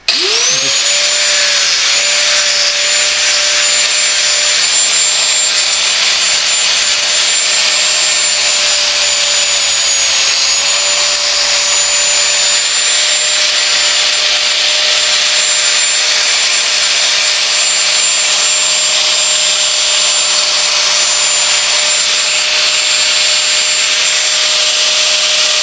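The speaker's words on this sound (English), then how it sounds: "I'm just using the flat wheel, so I don't want to use a stone because it's too coarse and it'll rip into it." A flat grinding wheel works a headlight actuator canister clamped in a vise, producing a loud, unbroken high whine with a rough, rubbing hiss that stays constant throughout.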